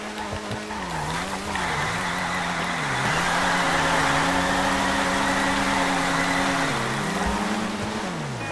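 A car engine in GTA 5 Online revs loudly, with pitch rising and falling between gear shifts, and tires squeal over a steady roar throughout.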